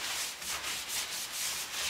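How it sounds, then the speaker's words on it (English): Soft furniture wax being rubbed by hand into the nooks of a chalk-painted bathroom vanity, a steady close scrubbing hiss in quick back-and-forth strokes with no talk. "I'm putting on the wax. Got the soft wax, and I'm just really getting the end nooks and crannies"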